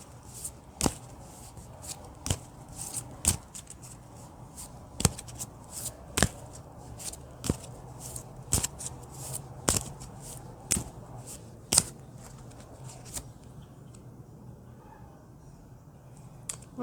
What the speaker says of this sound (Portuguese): Eu vou então tirar agora uma carta do Metatron